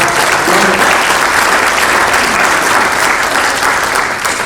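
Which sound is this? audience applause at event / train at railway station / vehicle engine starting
audience applause at event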